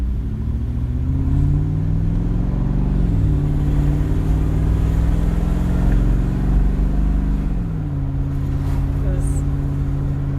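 A Mercedes-Benz G55 AMG drives along with a deep, steady engine drone heard from inside the cabin, its pitch rising and falling with speed while people talk over it.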